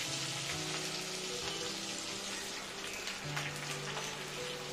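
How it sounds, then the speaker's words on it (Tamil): Long thin strips of brinjal, half a kilo, sizzle steadily in hot oil, with a dense continuous crackle and no talking. "இந்த கத்திரிக்காய் எண்ணெயிலே ஒரு 5 நிமிஷம் நல்லா வதங்கட்டும்."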